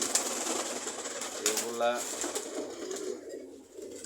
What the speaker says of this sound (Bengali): কবুতরগুলো খাবার খেয়ে আবার সুন্দর করে সেখানে পানি খেয়ে উড়াল দিচ্ছে।